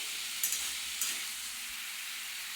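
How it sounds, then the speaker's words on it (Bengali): Steady sizzling hiss of papaya frying in hot ghee, with a couple of soft clinks from stirring, close by and with no talking. "দেখো পেঁপে কি সুন্দর কালারটাও বেরিয়ে গেছে এটা কিছুক্ষণ ভাজা হোক"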